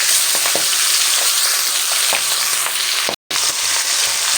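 Pabda fish pieces coated in salt and turmeric frying in oil, a loud, dense, steady hiss of sizzling with faint crackles, briefly cut off near the end.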